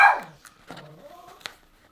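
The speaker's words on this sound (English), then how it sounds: "Why is Gigi barking at Sidon?" A dog gives a couple of short, sharp indoor barks, loud and close, followed by a fainter whine-like yip; no speech.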